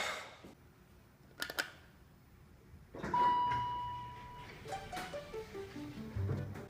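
An elevator's next-floor electronic chime rings out with a steady tone, mixed with mechanical clatter and hum inside the small enclosed car; no one speaks.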